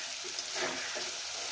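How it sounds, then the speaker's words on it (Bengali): Soft, steady sizzle of vegetables, ridge gourd with potato for a poppy-seed dish, frying in a pan over a home stove, an even low hiss with no talk. "এটা আমি 5 মিনিট ধরে ভেজে নেব।"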